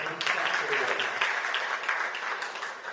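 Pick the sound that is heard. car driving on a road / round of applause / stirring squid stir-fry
round of applause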